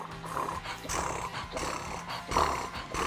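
A voice imitates a cat's snoring purr, a rough, growly rumble that swells and fades in several uneven pulses over about three seconds, close and fairly loud with no other talk.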